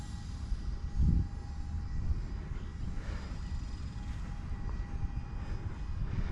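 Small E-flite UMX B-2 Stealth RC plane at full throttle, its distant electric motor a faint, steady whine under wind and outdoor noise, with a brief low thump near the start.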